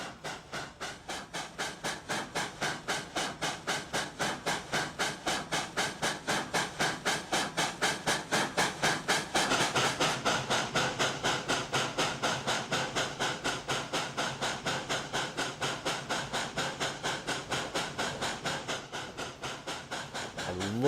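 N-scale model coal hopper train with 17 cars running on a layout, producing a steady, rapid clickety-clack of wheels over rail joints that swells in the middle and stays close and continuous.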